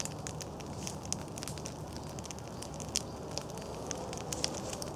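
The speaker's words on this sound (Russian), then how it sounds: "тем дольше такой костер будет гореть" A taiga-style long campfire burns beneath a thick log laid on top, giving steady close crackling with frequent sharp pops and snaps over a soft continuous rushing flame, with no voices.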